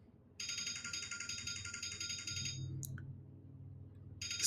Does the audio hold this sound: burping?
no